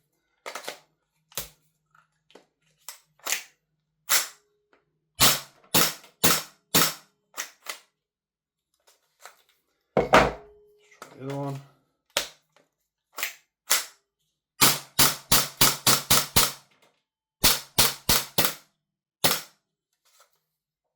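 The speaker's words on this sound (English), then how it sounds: "consecutive bursts of full auto mag after mag" Lambda Defence GHM9 Gen2 gas blowback airsoft rifle firing full-auto bursts, sharp close cracks in rapid clusters of three to six shots separated by brief pauses, with some single shots and a rattling mechanical clatter midway.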